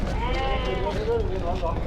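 Sheep bleat at a busy outdoor livestock market. Several wavering, overlapping calls sound close by, under a steady crowd murmur and nearby talk.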